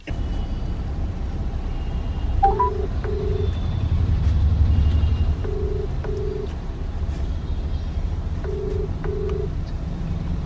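A phone call being dialed: short paired electronic tones beep in three evenly spaced groups over a low steady hum, clear but modest in level, with no talking.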